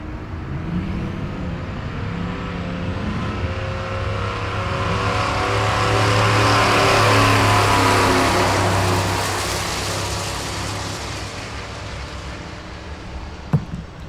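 A Buick Turbo Regal drag racing at Tulsa Raceway Park, its engine note climbing steadily through the gears as it runs down the strip. The sound swells loud mid-run, then fades with distance, with no talk over it.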